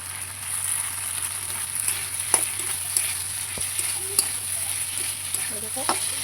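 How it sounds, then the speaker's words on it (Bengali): Mustard paste and spices frying in a home kitchen pan, a steady low sizzle with occasional stirring clicks and scrapes of the spoon, close and moderately quiet. "সর্ষে বাটাটা দিয়ে দিচ্ছি ভাজা ভাজা করবো"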